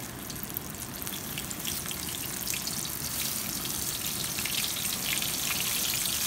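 A cornflour-coated fish fillet fries in hot oil, giving a dense, steady, loud sizzle with fine crackling that holds evenly throughout, with no talking.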